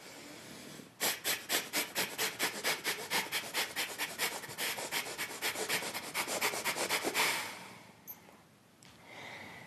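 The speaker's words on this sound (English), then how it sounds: "you inhale and exhale as quickly as you can through the nose" Rapid, forceful bursts of breath through the nose in yoga breath of fire, a steady rhythmic series of sharp exhales for several seconds, then a pause and quieter breathing.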